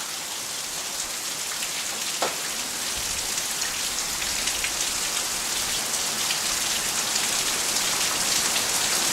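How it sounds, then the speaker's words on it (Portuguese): Heavy rain pours down steadily, a dense, hissing wash of drops drumming on a surface, constant and close for the whole stretch. "Essa chuva vai passar, quando chove forte assim, para logo."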